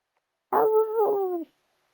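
A Minecraft dog lets out a single whimpering, howl-like cry lasting about a second, close and fairly loud with a wavering pitch, alone in otherwise silent game audio.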